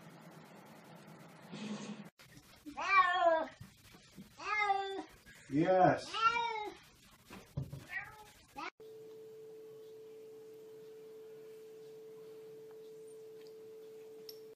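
A cat gives a run of several drawn-out, wavering meows up close, followed by a steady electronic tone that continues to the end.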